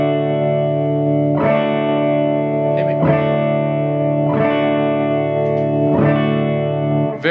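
An electric guitar plays overdriven chords through a Fender Blues Deluxe Reissue amp with reverb, four strums ringing out and sustaining over about seven seconds, loud and close with no talking.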